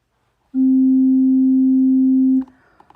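A single sustained organ pipe note on the Nachthorn 4' stop, steady and pure with a soft flute-like tone, held for about two seconds before cutting off, followed by faint clicks.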